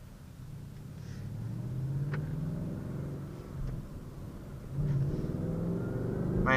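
A 2019 Ford Mustang GT with its V8 revving and accelerating, a steady low engine rumble that swells in waves and builds louder toward the end.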